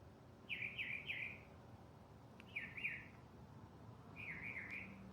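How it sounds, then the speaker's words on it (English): A northern mockingbird sings loudly outside a house at 1:30 in the morning, three bursts of quick repeated chirping phrases separated by pauses over a faint night background. "it's a northern mockingbird."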